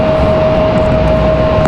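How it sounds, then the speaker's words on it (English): A JetBlue airliner in a special livery roars steadily at Raleigh-Durham International Airport, a loud, continuous engine rumble with a sustained whining tone and no voices over it. "Our third JetBlue special of the day right here."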